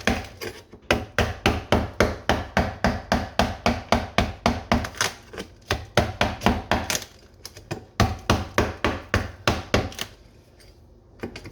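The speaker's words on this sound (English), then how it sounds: "when I'm hammering something" Rapid, steady hammer blows knock loose 1x1-foot slate kitchen floor tiles, a loud close run of sharp wooden thunks at about three per second, pausing briefly near the end.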